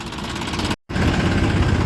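Tractor engine idles at a sugarcane weighing site, a loud, steady mechanical rumble with a brief cut near the middle before the same droning chug resumes.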